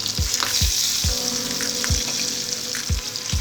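Onions, green chillies, dried red chillies and tempering seeds fry in hot oil for a Telugu okra stew, a steady loud sizzle broken by regular low thumps of stirring about every half second.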